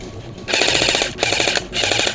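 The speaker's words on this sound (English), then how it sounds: "Right, we're getting shot at" Airsoft guns fire in three rapid full-auto bursts during a skirmish game, loud and close, each burst a fast rattling string of shots separated by short gaps.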